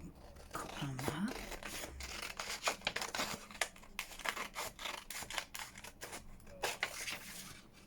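Scissors cut through leftover packaging for a junk journal, making a quick series of close, crisp snips with paper rustling and rubbing between them.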